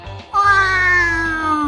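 A man growls like a hungry cat, a loud close drawn-out meowing whine that slides slowly downward after a brief low rumble, a human voice imitating the animal.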